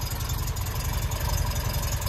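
A 1970 MGB roadster with a rebuilt engine and twin SU carburettors idles close by, a loud, steady low rumble with an even beat and no talk over it.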